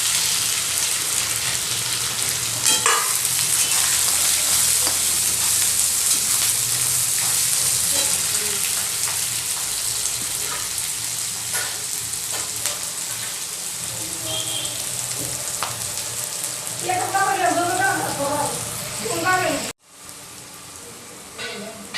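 Onion, green chillies, curry leaves, mustard seeds, cumin and peanuts sauté in hot oil for Maharashtrian kande pohe, a continuous close sizzle with occasional stirring clatter and a brief cut near the end.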